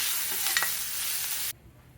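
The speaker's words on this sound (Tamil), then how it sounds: "சின்ன வெங்காயம் ஒரு பத்து வெங்காயம் பொடியாக கட் பண்ணி வச்சுருக்கேன் அதையும் சேர்த்து நல்லா வதக்கிட்டு" Chopped shallots and curry leaves sautéing in hot oil in a pan, a dense close sizzle with a few scraping stirs, cutting off abruptly into near silence after about a second and a half.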